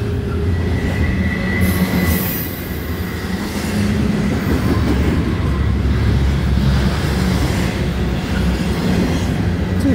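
Two CSX freight trains pass in Cementon, New York, one heading south and one north, a loud continuous rumble of rolling railcars with clickety-clack wheel beats and occasional squealing throughout.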